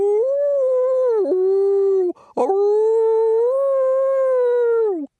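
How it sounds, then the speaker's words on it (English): A long, mournful howl holds steady, breaks off briefly, then resumes for several more seconds, loud and close with no other sounds. "From far behind him, he heard Lucy's anguished howl."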